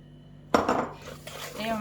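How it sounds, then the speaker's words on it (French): An egg being beaten into cookie dough in a bowl, a sudden clatter of a utensil against the bowl followed by brief scraping and stirring strokes, close and fairly quiet. "J'intègre la deuxième partie de mon œuf et je continue à battre."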